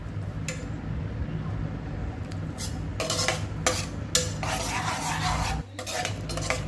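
A spoon scrapes and clinks around a pot of tamarind curry in several uneven strokes over a low sizzling background, close and moderately loud.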